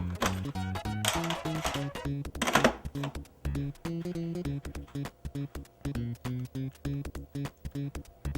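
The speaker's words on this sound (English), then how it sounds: "when you hit the power button, the box makes this weird clicking sound" An Atari 5200 console box clicking after its power button is pressed, a steady run of sharp repeated clicks with a buzzing electronic hum beneath, near and fairly loud.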